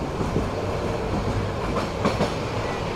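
Sonar Bangla Express train running on rails past Brahmanbaria railway station in Bangladesh, a steady loud rumble with rhythmic clickety-clack of wheels over rail joints throughout.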